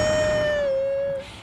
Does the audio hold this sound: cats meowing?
yes